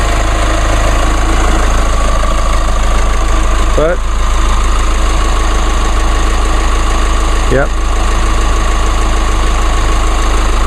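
A truck engine with a cast iron block and aluminum head idles loudly and steadily nearby, a constant rumbling drone with a faint knock, while someone talks over it.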